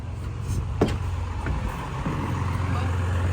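Cummins diesel engine in a FedEx delivery truck, a steady low idling rumble close by, with a brief clank and people talking over it.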